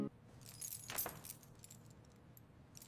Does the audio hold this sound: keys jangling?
yes